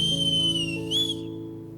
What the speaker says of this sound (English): Rutabug placed 2 fingers together and gave a sharp whistle.